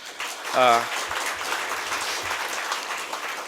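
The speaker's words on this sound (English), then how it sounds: "she deserves a big round of applause" Steady applause from a crowd fills the room at an event with India's Union Finance Minister, with a brief spoken voice rising over the clapping near the start.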